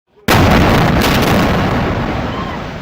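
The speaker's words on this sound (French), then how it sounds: "Une série d'explosions s'est produite dans la ville palestinienne alors que Benjamin Netanyahou y est allé de" An explosion from strikes on Gaza, heard in a news report: a sudden, very loud blast follows a brief quiet moment, then a heavy rumble slowly fades over a couple of seconds.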